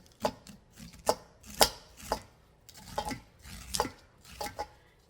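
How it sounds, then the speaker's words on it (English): A knife scrapes fresh corn kernels and their milk off the cob into a bowl for Southern fried corn, a close series of about ten sharp, rhythmic rasping strokes with short gaps between them; no speech. "You want to scrape down to the cob."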